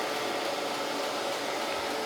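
Steady broadband machine grinding on a cast iron 9" straight edge casting, a constant even whir with no pauses throughout.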